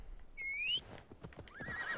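A horse in Assassin's Creed Valhalla gives a rising, whistling whinny close by, then a second shorter neigh near the end, over soft hoof clops and background game ambience.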